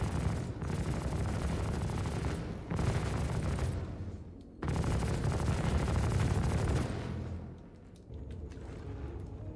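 Dense bursts of rapid automatic gunfire in a sci-fi video game, loud sustained volleys broken by brief gaps, with a final quieter stretch of scattered shots.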